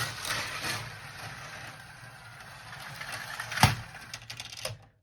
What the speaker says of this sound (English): I don't know how fast it is supposed to go with the bigger motor, but this seems to be working quite fine.